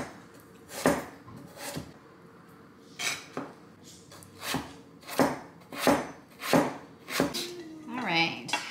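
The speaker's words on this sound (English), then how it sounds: "I'm gonna cut it into smaller pieces by knife" A kitchen knife chops carrot into smaller pieces on a board, giving a series of sharp, irregular thuds and clicks close by, with a faint clink near the end.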